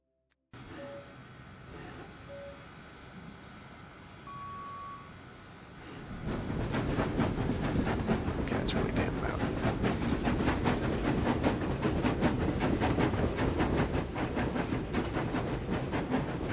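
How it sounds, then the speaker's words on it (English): A train ride in the video game SimCity 4 opens with a quiet ambient hum and a few faint beeps, then swells into a steady, loud rumbling rail noise with rhythmic clatter that continues to the end. "Let's go for a ride on the train."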